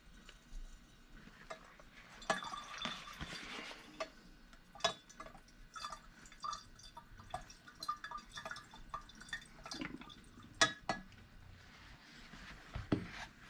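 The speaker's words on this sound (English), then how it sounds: "adding sulphuric acid to water will create heat" Sulphuric acid being poured into water for a dilute leaching solution, about 50 millilitres into 950, heard as faint scattered drips and small clinks with light splashing, fairly quiet and close, no talking.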